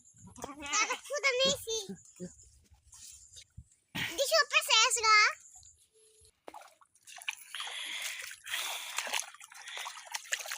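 Native goats bleat loudly and close by in two wavering bursts as they are unloaded into floodwater, followed by splashing and trickling water.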